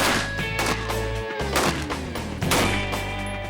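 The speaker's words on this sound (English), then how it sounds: "75 gunshots later," Rapid gunfire of tracer rounds fired at a tank, sharp repeated cracks and impacts in a loud, dense burst with ringing tones between shots.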